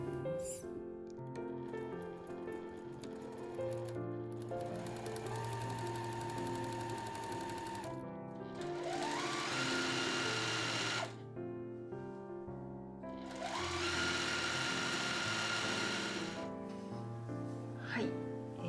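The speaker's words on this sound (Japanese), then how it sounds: "職業用ミシンの場合は押さえの端をこの布端に合わせると ちょうど5ミリになりますので、そのようにして縫っていきたいと思います" An industrial sewing machine runs two long stretches of straight stitching along the side seams of a camisole dress, its whirring clearly audible over steady background music.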